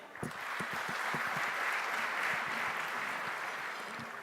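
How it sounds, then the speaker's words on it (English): Steady applause from a celebration audience fills the whole stretch, dense clapping at a fairly close, even level with a few sharper individual claps near the start. "Can I hear a huge round of applause one more time?"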